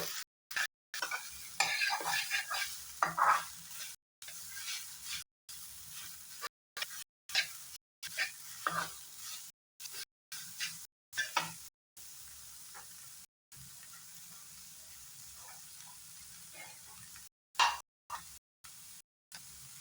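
Thinly chopped onions are added with coriander leaves to a pan for egg pasta and fry in an intermittent, close sizzle. Scraping and stirring noises break up the sizzle, with repeated brief gaps.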